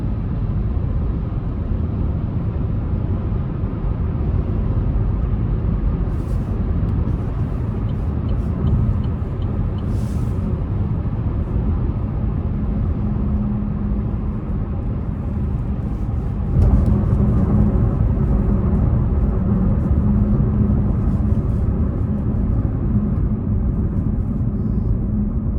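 Cabin of a 2025 Buick Encore GX Sport Touring while driving: a steady low road rumble and engine drone fills the interior, with a brief rise in road noise partway through and no talking.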